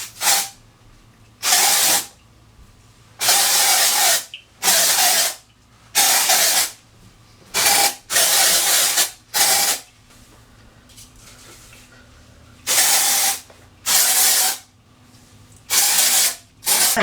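Aerosol dry shampoo sprays onto a blonde synthetic lace wig in about ten short bursts of bright hiss, each a second or less, separated by quiet pauses, fairly close.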